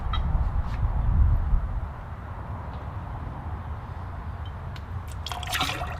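Apple juice pours into a jigsaw or glass for a Screwball cocktail, a soft, close trickling fill that runs steadily for a couple of seconds and then tapers off into light drips and faint clinks.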